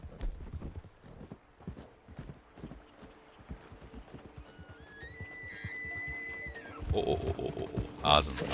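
Hooves clip-clop in steady rhythm as a horse gallops in Red Dead Redemption 2 Online, with game effects and a brief whinny-like tone overhead while someone talks throughout.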